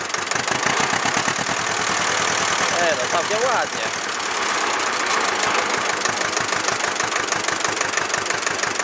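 An old 1963 Ursus C-325 tractor engine chugs with a loud, rhythmic knocking beat, revving up briefly as someone speaks over it.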